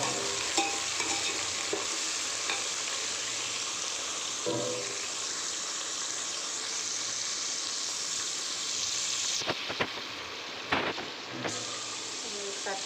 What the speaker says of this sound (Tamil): வெங்காயம் நம்ம நறுக்கி வச்சுருக்க 4 தக்காளி, பச்சை மிளகாய் எல்லாத்தையும் அதில் போட்டுருங்க